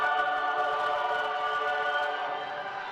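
Football crowd at the SYFA Cup Final 2018, fans with banners cheering and chanting in a sustained, loud, steady roar that eases slightly toward the end.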